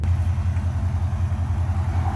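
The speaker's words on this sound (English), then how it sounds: "press the button right here, and it's gonna lift the suspension up" A Mercedes-Benz idles with a low, steady engine rumble as its suspension lifts at the press of a button, a constant close hum with no distinct mechanical clunks standing out.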